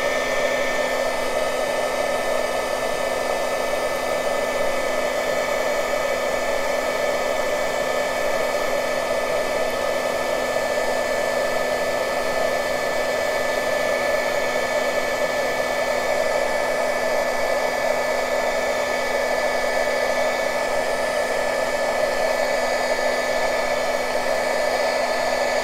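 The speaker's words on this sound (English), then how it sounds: "I'm going to take my heat gun." A craft heat gun blows steadily for embossing, giving a continuous loud whirring hiss with a constant motor hum, unbroken and without talk throughout.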